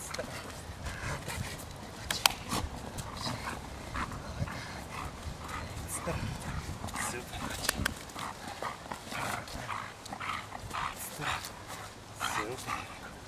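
A dog growls and tugs playfully, with scuffling sounds and a person talking and giving short commands throughout.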